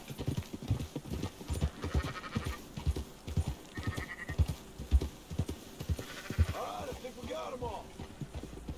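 Sheep bleat in Red Dead Redemption 2 over steady clip-clopping hooves and scattered game sounds, with a clearer run of bleats near the end.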